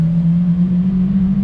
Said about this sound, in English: Here comes the Lambo with the McLaren right behind it.